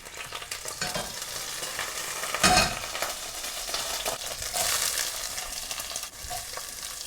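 Fresh curry leaves sizzle in a couple of tablespoons of olive oil in a pan, giving a soft, steady crackle with a brief louder spit early on.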